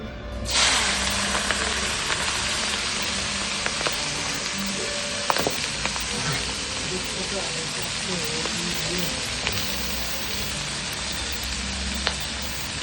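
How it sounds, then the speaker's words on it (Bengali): Jalangi river prawns frying in hot oil at a roadside hotel at a busy junction, a loud dense crackling sizzle that holds steady throughout, with voices talking faintly underneath. "চিংড়ি তেলে পড়ার পরে কালার চেঞ্জ, লাল হয়ে গেল।"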